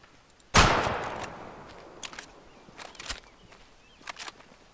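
A single loud rifle shot in the hunting video game Way of the Hunter cracks out near the start and decays into a rolling echo, followed by faint footsteps and rustling in the outdoor ambience.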